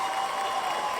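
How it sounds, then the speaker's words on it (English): Crowd applauding and cheering at an election victory gathering, a steady dense wash of clapping with faint voices mixed in, heard alone. "They're cheering."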